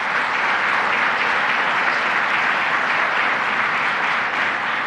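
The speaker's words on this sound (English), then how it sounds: "let's give a round of applause to Syracuse Mayor Ben Walsh" Loud, dense, continuous applause fills a public announcement event about a child care investment, steady and unbroken throughout.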